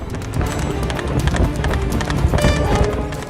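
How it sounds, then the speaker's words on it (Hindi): A ridden horse clip-clops along at a steady trot in a village, its hooves sounding as continuous busy clatter over broad background noise. "इस घोड़े की सवारी बड़े मजे से कर रहे हैं"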